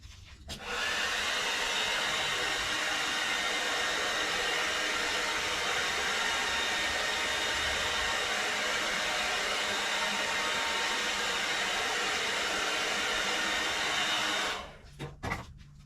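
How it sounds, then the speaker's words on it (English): A hairdryer blows steadily for about fourteen seconds, warming a part during a BSA Star Fire 250 motorcycle rebuild; a loud, even whoosh starts abruptly and cuts off near the end, with no talking. "Good time warming up with the hairdryer again."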